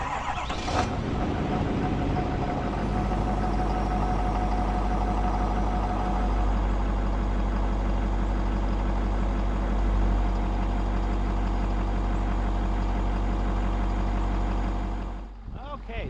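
A Ford F-250 pickup truck's engine idles in a steady low rumble for most of the clip, close and constant, fading abruptly near the end.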